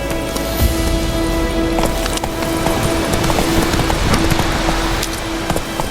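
Roach, the horse in The Witcher 3: Wild Hunt, gallops with quick rhythmic hoofbeats, close and loud, over a steady humming game backdrop with tack jingling along the way.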